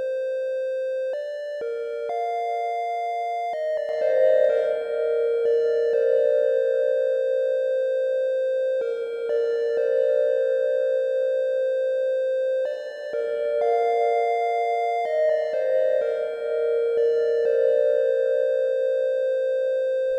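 A bright, beeping chiptune synthesizer melody made in SunVox plays loudly on its own, stepping through short repeating phrases of square-wave notes.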